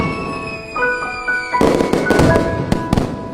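Diwali firecrackers burst in a loud, dense run of sharp bangs and crackles close by, after a quieter tonal opening.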